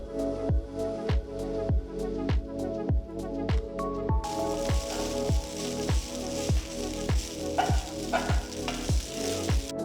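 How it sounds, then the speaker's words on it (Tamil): Hakka noodles sizzle and crackle in hot oil while a utensil scrapes the pan in a steady, repeated stirring rhythm, close and loud. "கிட்டத்தட்ட 1 நிமிஷத்துக்கு நூடுல்ஸை கிண்டுங்க. அப்போ தான் நூடுல்ஸ் எண்ணெயில் நல்லா கோட் ஆகும்."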